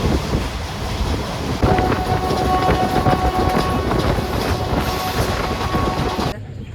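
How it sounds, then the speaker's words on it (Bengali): A moving passenger train clatters steadily along the rails in rain with a loud, constant rumble, rhythmic clicks and a faint metallic whine, close by throughout. "আমাদের ট্রেনের গতি দেখেন"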